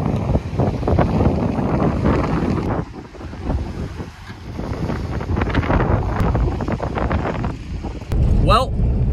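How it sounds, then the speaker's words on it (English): Strong wind on a Columbia River beach buffets the microphone in heavy rumbling gusts, nearly constant with a brief lull, while a person talks over it. "super windy out"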